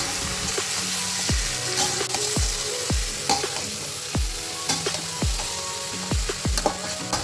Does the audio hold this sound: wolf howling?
no